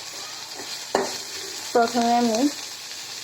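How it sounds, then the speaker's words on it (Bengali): Onions and green chillies fry in hot oil for a small-fish chorchori, giving a steady close sizzle throughout, with a voice speaking briefly over it. "তেলের মধ্যে কিছু পেঁয়াজ, কাঁচামরিচ দিলাম। পেঁয়াজটা একটু ভাজা হোক।"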